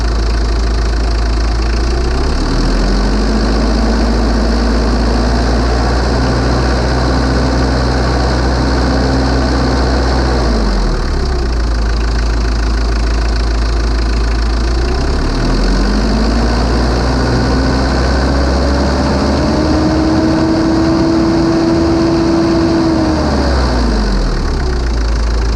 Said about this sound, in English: I'll do a little rev of the engine so you can hear what that sounds like